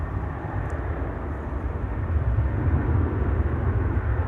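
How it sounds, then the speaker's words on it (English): KLM Boeing 737 jet at Amsterdam Schiphol Airport on a flight to Munich, a low rumbling engine roar that swells slightly midway and holds steady, with no talking. "This is KLM flight 1851 to Munich."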